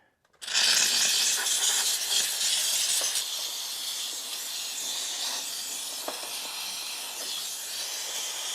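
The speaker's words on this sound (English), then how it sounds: "And then steam it." A steam cleaner blasts a degreased Honda Prelude engine bay with a loud, continuous close-up hiss that starts abruptly and holds steady throughout.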